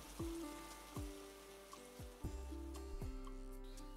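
Cartoon rain during an early-monsoon Asharh shower, rendered as a handful of sparse, pitched plinking drops that fall one after another, each with a short ringing tail, fairly soft.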